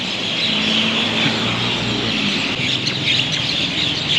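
Steady bright chirping of many birds in Hua Hin, Thailand, mixed with a constant outdoor hum, continuous throughout with no pauses.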